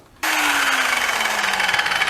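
A Bauer metal conditioning tool starts abruptly and grinds a rust spot on a Chevy K10 cab, a loud close whine with rough abrasive scraping that slowly drops in pitch under load.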